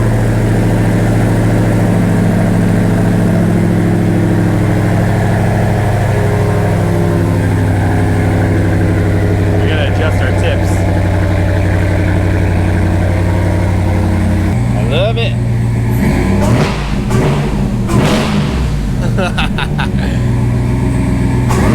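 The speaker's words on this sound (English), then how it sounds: "this thing sounds so good with this intake and exhaust" Hellcat-swapped Dodge RAM 1500 pickup with aftermarket intake and exhaust idles loudly and steadily up close, a deep rumble with a few short throttle blips near the end.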